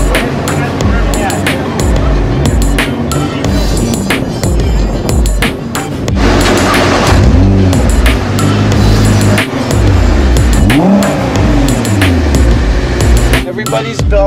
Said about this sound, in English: We're in a Nissan GTR 2014, probably one of the better street cars I've ever driven on a racetrack.